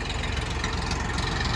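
A mini tractor engine runs steadily at close range, a dense continuous low rumble with no pauses.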